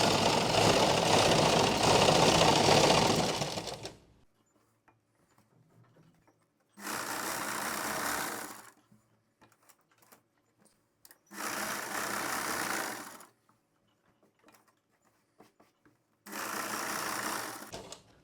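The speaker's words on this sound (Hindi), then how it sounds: "अब चलते पे जल्दी से सिलाई लगा देनी है।" A sewing machine stitches elastic into palazzo pants in four separate runs, each a loud, steady mechanical whir lasting a few seconds, separated by quiet pauses with small handling clicks.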